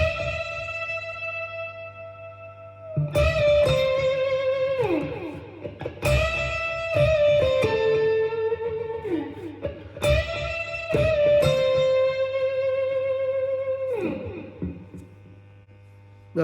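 Distorted electric guitar plays a sustained lead line with bends and repeated phrases over a chugging low riff, loud and near.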